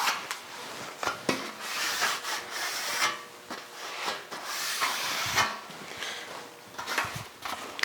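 A steel tail panel for a 1956 Chrysler 300 is worked back and forth through an English wheel, making repeated rasping, rolling swishes in an uneven rhythm, close and moderately loud with no voices.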